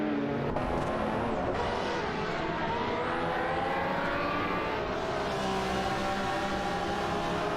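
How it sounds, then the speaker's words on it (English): Race cars in an AI racing video game, a Ford GT17 dueling a McLaren F1 GT for position, roar continuously with dense engine drone and shifting pitch as they pass, loud and steady throughout with no talking. "Paulo Costanin, in the Ford GT17, is challenging Duff Dad in the McLaren F1 GT for the 8th position."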